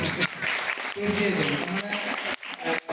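An audience claps at a school event, a dense patter of applause mixed with a speaking voice and briefly dropping away near the end.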